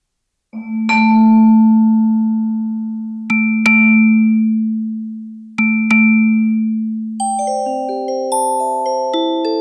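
Synthesized tuned percussion pings from a Surge XT patch, a struck-sounding bell-like tone with a steady low hum under it, hit three times with slow decays, then a quick run of overlapping higher pitched notes, loud and close with no talk.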